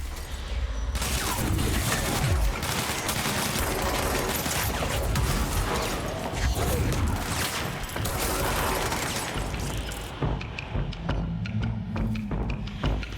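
Dense, continuous gunfire and crashing impacts in the action game Control, a loud sustained barrage with no letup, thinning slightly near the end.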